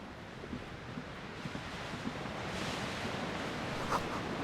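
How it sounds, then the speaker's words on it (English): Waves crash in darkness in the video game Disco Elysium: a low, wind-blown surf wash, fairly quiet and continuous, with soft swells rising and a faint gust building toward the end. "Waves crashing in the darkness."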